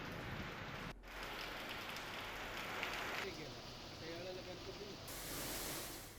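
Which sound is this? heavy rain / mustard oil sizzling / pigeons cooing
heavy rain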